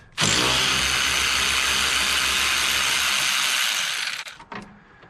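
A ratchet wrench, apparently powered, runs in one steady buzzing burst of about four seconds while backing screws out of the top of a water pump on a 1998 Jeep Cherokee XJ, then trails off with a few brief clicks.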